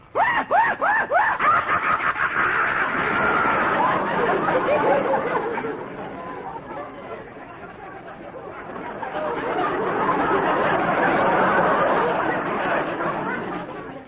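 A voice imitates the maniacal screech of a hyena with a burst of rapid, cackling whoops that rise and fall, followed by a long, wavering stretch of shrill, chattering cries, loud and close.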